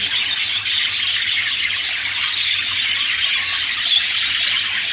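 Budgerigars at a breeding setup squawk and chirp continuously, a dense, loud flock chatter with no talking.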